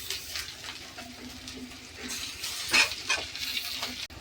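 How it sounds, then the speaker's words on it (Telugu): Tomatoes and ginger paste fry in a pan with a soft, steady sizzle, broken by a few scraping stirs and a brief louder hiss near the middle. "బాగా ఫ్రై అవనిద్దామండి, పచ్చివాసన పోయే వరకు."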